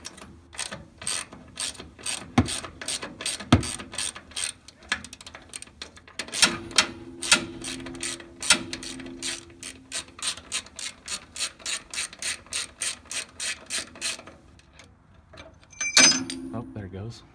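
A ratchet clicks rapidly in quick bursts while someone removes a small bolt on a 1995 Ford F-150. The close, sharp pawl ticks run in fast strings with short pauses between them, and a few metallic clanks land in the gaps.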